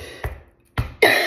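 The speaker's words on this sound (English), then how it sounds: "Death cough." A person's harsh cough from a longtime smoker: two separate rough bursts, close and fairly loud, followed by a breathy rasping exhale.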